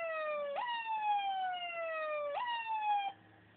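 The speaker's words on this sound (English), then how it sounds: "this is our siren" An electronic police siren from a toy Power Wheels police jeep's siren/PA system wails in a repeating pattern, each cycle jumping up in pitch and then gliding slowly down, heard close and clear.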